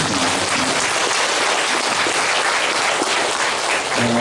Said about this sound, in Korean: 우리 청년 성학생들을 위해서도 감사의 박수를 보내겠습니다